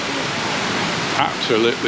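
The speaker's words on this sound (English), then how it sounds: "So the swimming pool is now a waterfall" A swimming pool converted into a waterfall, with water cascading in a steady, loud rushing hiss. Brief voices and faint tones come through near the end.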